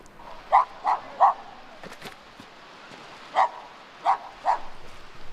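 Dogs in an Indian village bark in short separate yaps, three quick ones, a pause, then three more, moderately near over a quiet outdoor background.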